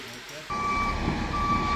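A concrete truck sounds a steady, high-pitched reversing beep that starts abruptly with the rumble of its engine, heard at moderate distance as people talk nearby.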